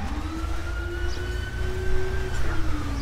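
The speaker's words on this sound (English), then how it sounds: "Looks like there's the ambulance" Ambulance siren wailing in GTA V's LSPDFR mode, a loud continuous rising and falling tone over low road and engine rumble, holding steady throughout with no talking.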